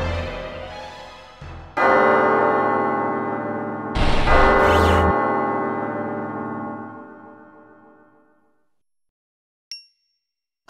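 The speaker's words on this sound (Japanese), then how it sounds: "5回目の鐘がパリに鳴り響くとき" A church bell in the Paris-set video game Sakura Wars 3 strikes with a bright clang, then a second heavier strike follows, its ringing hum slowly fading away, leaving a brief faint chime near the end.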